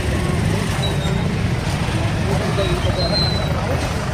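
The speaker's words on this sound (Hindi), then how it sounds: "इधर लंबा लंबा बड़ा बड़ा गाड़ी आ गया यार" Long, heavy vehicles pass on a road near a fairground, producing a dense, continuous, loud engine and tyre rumble, and people talk beneath it.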